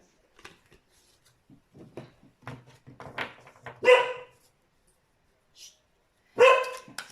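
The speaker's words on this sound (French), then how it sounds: "Excusez-moi, c'est mon chien." A dog barks a couple of times in short, sharp bursts, with quieter snuffling and small yips between them in an otherwise quiet room.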